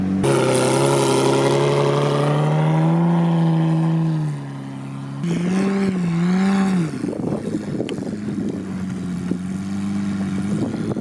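A Lamborghini engine revs on snow, giving a loud, sustained, close drone whose pitch climbs and falls. It briefly drops in level mid-clip, then swells through further uneven revs. No one speaks.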